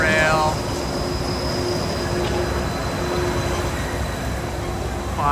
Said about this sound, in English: There goes the monorail.